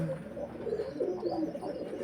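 Pigeons cooing in a loft, soft low rolling coos that rise and fall in a few short phrases, fairly faint and close, with no voices.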